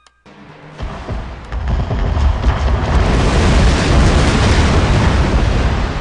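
A Joseon singijeon rocket barrage fires in Total War: Shogun 2, starting with a sharp pop and swelling into a loud, sustained roar of overlapping bursts and explosions that keeps building over several seconds.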